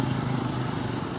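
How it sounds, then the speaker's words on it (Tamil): Motorcycles and other vehicles pass steadily on a road, a loud continuous engine rumble and traffic roar filling the whole moment with no pause. "இவ்வளோ வண்டி போகுதுல்ல."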